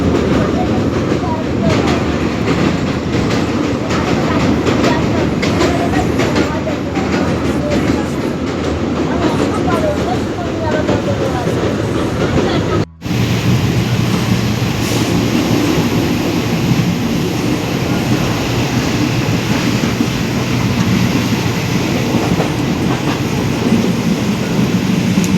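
Steady, loud rumble and rattle fill a moving passenger train, with rhythmic clickety-clack of wheels over rail joints running throughout, broken by one brief dropout midway; faint voices sit under the noise.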